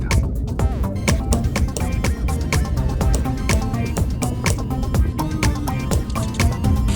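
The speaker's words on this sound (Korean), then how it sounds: "까치의 나무 쪼기 행동은 멈추질 않습니다." A magpie pecks hard at tree wood in rapid repeated bursts, giving sharp, close taps that sound over a steady outdoor background.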